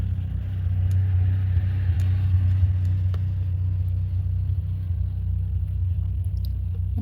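A neighbor's lawn mower drones steadily in the distance, a low continuous engine rumble with no talk over it.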